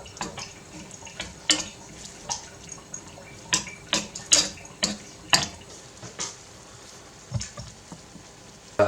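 Beans seasoned with white pepper cooking down in a pan for burritos, with soft clinks of a spoon stirring against the pan over a faint sizzle and drip, the scraping strokes coming in an uneven rhythm close by.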